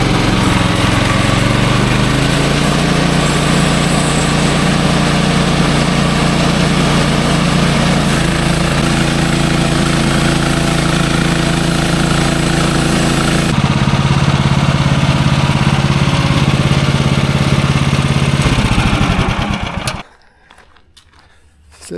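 A sawmill engine running after a restart, a loud, steady mechanical drone held for about twenty seconds before it abruptly cuts off.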